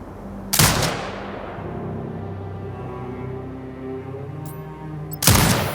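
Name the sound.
automated turret firing at hostiles in a video game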